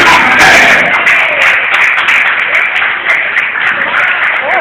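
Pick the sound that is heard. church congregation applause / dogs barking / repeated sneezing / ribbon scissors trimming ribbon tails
church congregation applause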